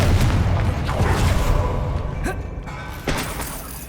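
Confringo fire spell explosion in Hogwarts Legacy on PC, a loud booming burst with a crackling rumble, then a fading tail and a second sharper impact near the end.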